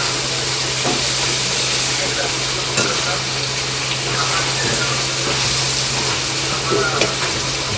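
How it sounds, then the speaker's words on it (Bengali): Chicken being fried and stirred in gravy for restaurant-style biryani, giving a steady close sizzle with constant frying hiss and occasional scraping stirs, along with a low steady hum and faint talk in the background. "চিকেনটাকে এখন ইয়াসিন ভালো করে কষে ফেলছে। এই গ্রেভিটার সাথে।"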